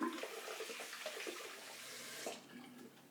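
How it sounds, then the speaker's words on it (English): Tap water running after a shave, a steady close rush with small splashes as the face is rinsed, fading somewhat toward the end; no talk. "So let's rinse off."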